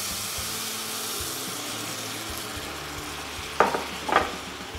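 Beef and mushrooms sizzle steadily in a hot pan for a Beef Stroganoff, with a constant frying hiss and two brief louder scrapes of stirring near the end.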